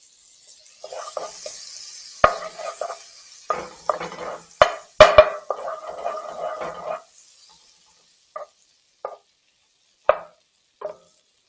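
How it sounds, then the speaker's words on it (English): Butter melts in a pot for Jamaican ackee and saltfish seasoning rice, with short bursts of sizzling, clanks and scrapes of a utensil against the pot, then quieter pauses broken by isolated taps. "Adding the butter to my pot."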